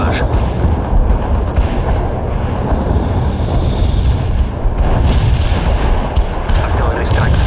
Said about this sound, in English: Yes, artillery strike on the way.